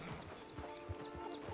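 Horse hooves clip-clop in a steady walking rhythm on a trail in Red Dead Redemption 2, quiet and close under faint ambient game sound.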